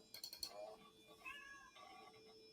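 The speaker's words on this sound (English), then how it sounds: "Oh, it makes cat noises." Synthetic cat meows play from a cat app on a vintage Macintosh computer, a few short mewing calls in quick succession, fairly faint with a little room noise.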